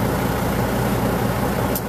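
A truck engine idles in freezing winter cold, a continuous, even, low rumble with no breaks, heard alone.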